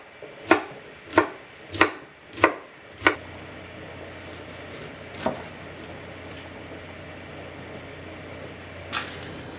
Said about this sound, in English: Cut the core out, and then slice it up into bite-sized chunks.